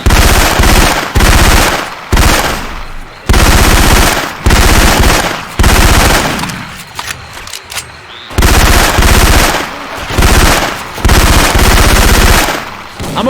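Bursts of loud, close automatic machine-gun fire from Syphon Filter weapon sounds swapped into the video game Left 4 Dead 2, repeated volleys separated by brief pauses, without speech.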